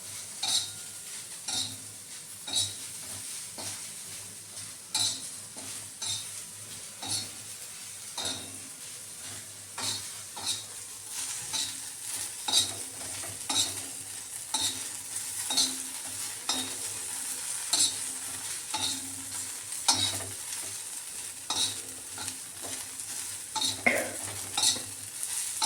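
Okra (bhindi) frying in a pan on a gas stove, with a steady sizzle and repeated scraping strokes of a spatula stirring the pieces, close and fairly quiet, with no talking.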